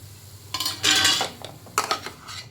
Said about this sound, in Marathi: एका प्लेटला असं तेल लावून घेऊया